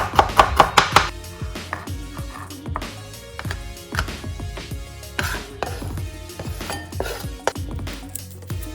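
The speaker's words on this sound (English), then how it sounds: "Right, so ginger, back on the knife, and just scrape it. Alright, then we just roughly chop it up." Ginger being roughly chopped with a knife on a cutting board, a quick burst of loud clacking strokes at first, then slower, irregular chops and scrapes with occasional clinks.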